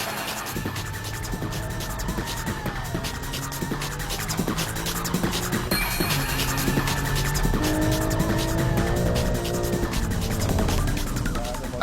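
A BMW M3, a Porsche and a Nissan GTR racing on a track: engines roar continuously with repeated tire squeals rising and falling over the steady racing noise.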